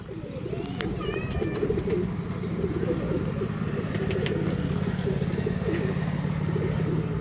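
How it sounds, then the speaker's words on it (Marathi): Pigeons of the Kolkata line cooing steadily through the clip, a continuous low murmur from a loft with some chirping birds and distant traffic in the background. "कोलकाता आईज आहे ही कबूतर."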